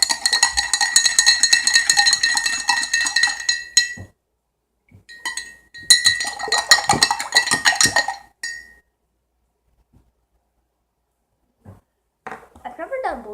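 A spoon stirring blue food dye into water in a glass, producing rapid, bright clinking against the glass in two long bursts separated by a pause, loud and close, with a voice speaking briefly at the end.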